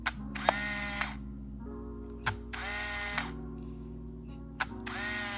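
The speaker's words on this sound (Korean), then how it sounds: "이렇게 3번 정도 공셔터를 눌러주니까 카운터 1이 나왔거든요" A Konica MT-7 film camera fires its shutter three times with the motor advancing the film after each release, giving three evenly spaced mechanical whirring bursts with sharp clicks, close and clear with no talk.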